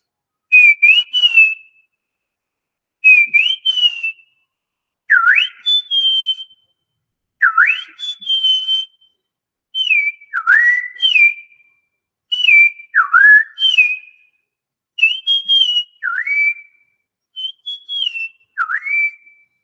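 A common iora gives clear whistled calls, played back as a recording: a series of sweet, swooping two- and three-note phrases repeated at steady intervals, crisp and isolated against silence.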